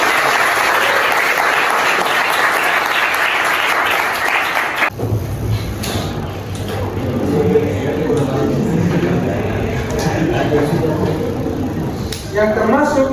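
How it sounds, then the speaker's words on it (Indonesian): Classroom group clapping on a teacher's cue during a school culture lesson: a loud burst of many hands for about five seconds, then it stops and talking carries on. "Tepuk tangan dulu."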